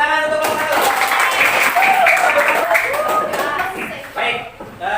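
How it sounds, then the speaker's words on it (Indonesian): A classroom of students claps for a small discussion group, a dense burst of applause with children's voices chattering and calling out over it throughout. "Tepuk tangan untuk kelompok 1."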